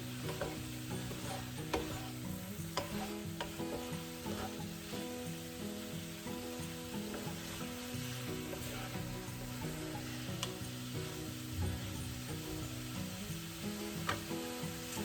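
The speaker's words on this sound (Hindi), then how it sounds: "अब मैं इसको चलाती हूँ" Food sizzling in a pan while being stirred, a steady frying hiss with rhythmic scraping strokes of the utensil, moderately quiet and close, with no talking.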